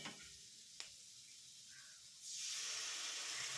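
Chopped spring onions dropped into a hot pan of oil with slit green chillies, starting with a quiet background, then a sudden loud, bright hiss and sizzle that swells up and holds steady.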